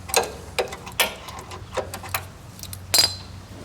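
A socket wrench loosens a bolt-type oil drain plug on a Kohler 14 HP engine in a Case 644 garden tractor, with a series of sharp metallic ratchet clicks and clanks spaced irregularly and close by.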